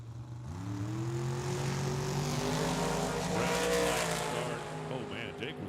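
A dragster and a Plymouth making a drag race pass at Tucson Dragway, engines rising in pitch together as they accelerate away, loud and sustained, with a voice talking over the roar.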